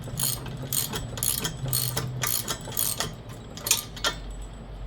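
A hand ratchet tightens the bolts and nuts of a GPP cooler mount in a series of quick clicking bursts with short pauses between them, close by and with no talking.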